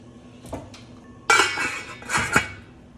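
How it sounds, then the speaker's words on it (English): A metal lid clanks onto a pot of boiling noodles, followed by a couple of clattering metallic knocks and scrapes, close and fairly loud. "I'm about to put a lid on them right now"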